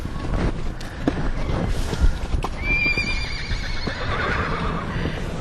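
A quarter horse mare whinnies with a long, high neigh while hooves clip-clop steadily nearby, with light wind noise in the background.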